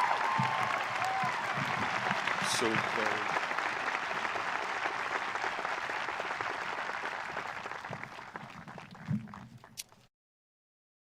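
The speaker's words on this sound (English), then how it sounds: "Let's give her a huge round of applause." Dense, steady applause from a large audience at Sherando High School's commencement fills about ten seconds, then drops off abruptly into silence.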